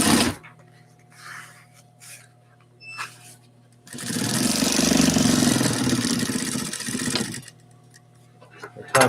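Sewing machine top stitching a zipper, a steady loud whirring run of about three and a half seconds in the middle, with quieter stops and brief stitching bursts before and after.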